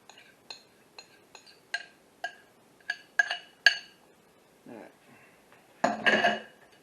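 Stuffed shell filling with no meat being moved into a bigger bowl, with a run of sharp clinks and taps of utensils against dishes, then a louder scraping clatter near the end; no one talks.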